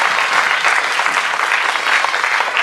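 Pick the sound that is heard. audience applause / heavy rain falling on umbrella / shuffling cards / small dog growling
audience applause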